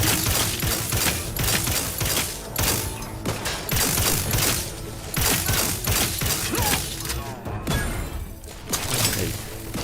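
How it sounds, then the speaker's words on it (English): Rapid bursts of gunfire from the video game The Outer Worlds 2 crackle in dense, irregular volleys. The shots are loud and sharp with mechanical clatter between them, dipping briefly near the end before resuming. "Who's shooting at me?"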